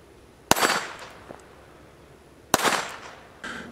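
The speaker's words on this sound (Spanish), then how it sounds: "Disparo con 22 Long Rifle estándar" Two sharp, cracking gunshots of standard .22 Long Rifle ammunition at 10 meters, about two seconds apart, each with a brief ringing tail, then a short rustle.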